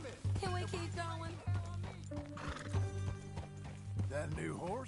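Hooves clip-clop at a trot under music in the video game Red Dead Redemption 2, with a horse whinnying near the end as a voice speaks briefly.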